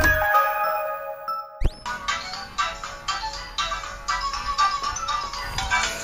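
Angry Birds game music plays from a device after a brief tonal jingle, a bright rhythmic electronic melody with steady pulsing notes carrying on to the end, fairly close and unaccompanied by talk.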